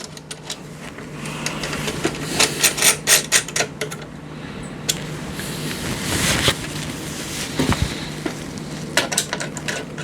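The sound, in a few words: screwing bracket screws with a magnetic screwdriver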